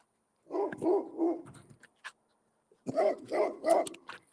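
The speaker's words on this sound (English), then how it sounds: "Oh, that dog trying to come through the fence." A dog barks at a yard fence, two quick bursts of several barks each separated by a pause, fairly close and clear with no talk over them.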